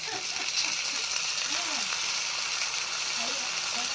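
Tomato frying in a pan for a Gujarati thali, a constant sizzle under a soft voice talking.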